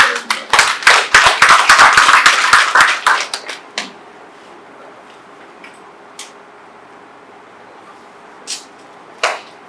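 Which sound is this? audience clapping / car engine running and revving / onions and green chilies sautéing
audience clapping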